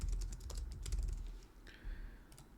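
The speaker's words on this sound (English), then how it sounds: "all we're doing in order to enter an item is typing the product ID." A product ID is typed on a computer keyboard at a point-of-sale desktop setup: a quick run of close, crisp key clicks, then a brief pause and a few final taps, with no talking.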